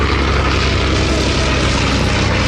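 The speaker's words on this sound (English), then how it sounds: "they're not expecting the aircraft to go sideways, as Mikael demonstrated" A Fokker World War I fighter, a Dr.I triplane or D.VII at an air display at Sywell, drones loudly and steadily with its propeller engine in close flight, a continuous throaty roar with no talking.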